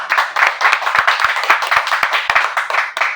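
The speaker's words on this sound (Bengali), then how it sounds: "ওনার জন্য জোরে হাততালি।" An audience breaks into loud, dense applause, many hands clapping together in a sustained burst with a few sharper individual claps standing out.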